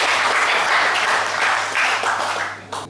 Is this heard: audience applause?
yes